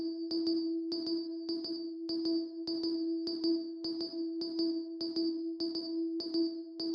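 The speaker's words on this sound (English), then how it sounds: "So I found this sound, it's actually a bell, and on its own, it actually sounds like this." A synth bell patch, muted-guitar-like, repeats in a steady, even loop of short plucked notes with a bright upper ping over a firm low tone, loud and alone with no voices.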